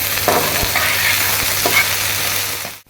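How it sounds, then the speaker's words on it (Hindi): Cut okra frying in a pan with a little salt, giving a loud, steady sizzle with a few stirring knocks, with no voices present. The sound cuts off abruptly at the end. "भिंडी हमने इस तरह से कट कर लिया और फ्राई कर लेंगे।"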